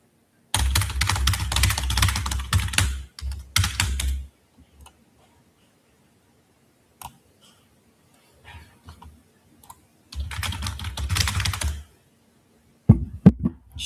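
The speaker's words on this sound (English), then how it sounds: "Bro, typing so loud, holy shit." Loud, rapid typing on a computer keyboard at close range, with dense bursts of clacking keys, then a long pause with scattered clicks and knocks, then another fast burst.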